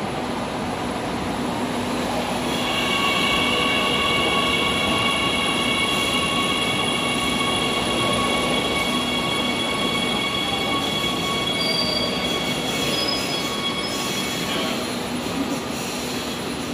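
A Jakarta LRT light rail train runs near its depot between Pegangsaan 2 and Velodrome, its wheels squealing in long sustained high tones over a steady, loud rolling rumble throughout.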